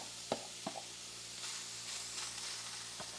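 Beef and cabbage stir fry sizzles softly in a pan, a steady hiss broken by a few sharp taps of a utensil, close but faint.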